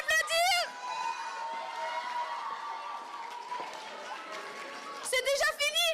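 An audience at a solo idol singing contest at the Japan Impact convention breaks into sustained applause and cheering for a contestant. A dense crowd roar fills the middle, with a voice speaking briefly at the start and the end.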